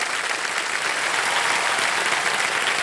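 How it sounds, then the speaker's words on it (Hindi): Steady, dense audience applause in a TV quiz game show studio, a continuous wash of many hands clapping at even loudness from start to end with no voices on top. "जोरदार तालियां शिवानी के लिए"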